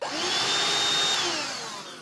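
A BLACK+DECKER dustbuster AdvancedClean cordless handheld vacuum running with a steady, loud, whining motor drone up close, easing off slightly toward the end.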